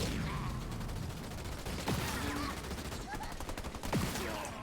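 Turrets firing in the Halo Wars 2 strategy game: dense, steady gunfire texture with repeated rapid shots and a couple of whooshing sweeps, with game voices and effects mixed in.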